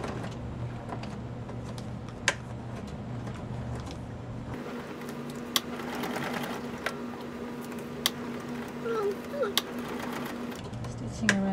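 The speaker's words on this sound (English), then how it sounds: "Stitching around the outside edge." A sewing machine stitches around the edge of a paper-bag mini journal, a steady close mechanical whir with brief pauses and a few soft clicks, running on its own.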